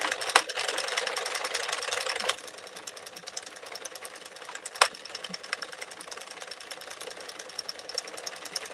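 A hand-cranked I-cord knitting maker turned continuously, giving a rapid mechanical clicking and whirring rhythm with sharp ticks, louder at first then settling to a steadier, lighter clatter.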